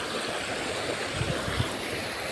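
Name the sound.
water flowing in a river stream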